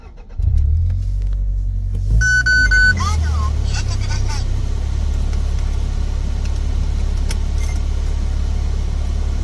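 A 1998 Toyota Caldina GT-T with AWD, a manual gearbox and the turbocharged 3S-GTE engine pulls away and drives, its low engine rumble steady and close throughout, with a brief chime and some clatter near the start and voices over it.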